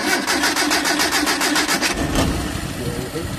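A Mitsubishi L300 with an overflowing carburetor cranks in a quick, even run of starter pulses. Its engine then catches abruptly and settles into a rough, rumbling idle nearby.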